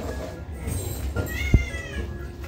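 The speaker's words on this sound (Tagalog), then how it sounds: "May pusa sa loob ng bahay ni Lola." A cat meows indoors inside a house, a few drawn-out wavering cries over a soft room background, with a brief sharp knock partway through.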